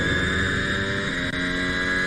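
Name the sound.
Formula 1 cars with Ferrari and Honda engines at British GP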